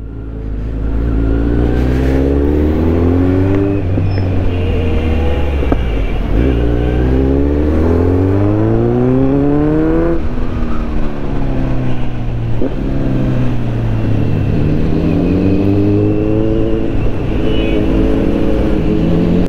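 A BMW S1000RR motorcycle engine revs repeatedly during a ride, loud and close throughout, with rising and falling pitch sweeps as it accelerates and shifts, steady road and wind noise underneath, and no talking.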